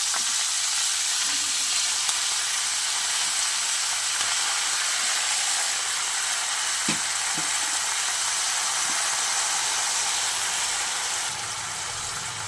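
Pumpkin greens and potato fry steadily in a pan, a dense continuous sizzle and hiss with a few faint clinks of stirring, no talk.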